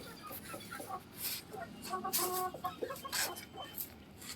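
Several hens cluck in a busy, overlapping stream at a farmhouse, with scattered mid-distance calls rising and falling over steady background noise, and a voice speaks faintly now and then.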